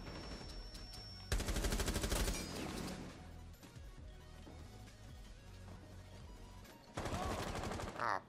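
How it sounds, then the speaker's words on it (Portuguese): Bursts of rapid automatic gunfire crackle in two loud volleys in Rainbow Six Siege, separated by quieter scattered shots and rumbling game effects. "Tomando tiro da onde?"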